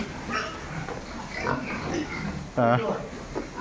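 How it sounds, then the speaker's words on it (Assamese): Several boars of around 50 kg, Landrace and Large White types, grunt low and steadily in a farm pen while someone talks over them, with one louder vocal burst near the end. "এয়া আৰু তিনটা बोर ইয়াতে আছে"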